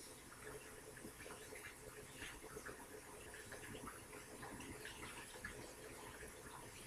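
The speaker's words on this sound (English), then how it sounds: "Just running this one under cold water" Cold tap water runs steadily into a kitchen sink as an egg is rinsed under the stream, giving a continuous close splashing hiss with no break.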